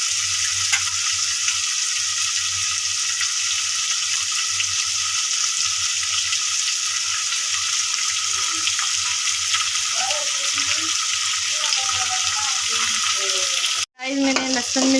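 Chicken frying with browned garlic in a pan for a gourd and meat curry, giving a steady loud hiss and crackle throughout, with a brief clatter near the end.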